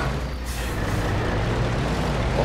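A truck with air brakes in the video game Battlefield gives a loud, continuous hiss of released air over rumbling engine noise, close and steady throughout with no break.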